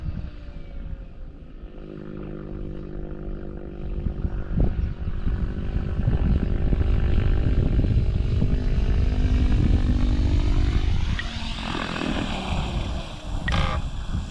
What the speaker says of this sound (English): First we'll do a straight 45-degree auto. Motor idle.